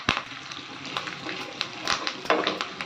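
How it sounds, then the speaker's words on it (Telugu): A South Indian tempering of oil with mustard seeds, cumin, chana and urad dal, dried red chilies and curry leaves frying in a pan, a close crackling sizzle with sharp popping bursts throughout, no talk. "తాలింపు వేగిపోయింది."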